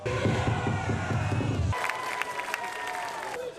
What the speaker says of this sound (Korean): 응원하는 선수와 팀의 이름을 마음껏 외치며 해방감을 느끼는 야구 팬들.